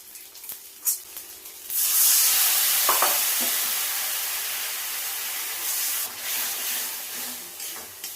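Masala with green chilli paste, cumin and coriander powder, salt and tomato ketchup frying in oil and being stirred, a rising hiss that stays broad and steady with soft scraping and spoon knocks, no voices.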